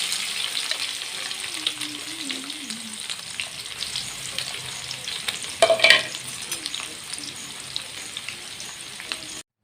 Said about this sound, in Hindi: और तेल डालने के बाद डालेंगे जीरा, जीरा डालने के बाद प्याज डाल देंगे।